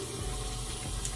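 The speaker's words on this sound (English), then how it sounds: "Then I wash it off my hands." Tap water running steadily into a sink while hands are washed, a close continuous gushing splash with no pauses over the short span.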